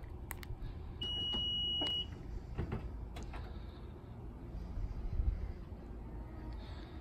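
A Honda Odyssey power tailgate opening by key fob in a quiet setting, with a steady electronic beep held for about a second, faint clicks and motor hum, and small thumps as the faulty gate shakes.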